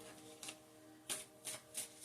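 Tarot cards being shuffled and shaken in the hands, heard as four short papery riffling bursts spaced unevenly over a soft room background.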